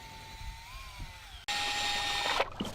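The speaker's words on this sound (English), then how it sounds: "Mix material with a powered drill at low speeds until it is uniform color and consistency" A powered drill fitted with a paddle runs at low speed, mixing Delaminator material to a uniform color and consistency, giving a steady whine that shifts pitch midway, with a clatter near the end.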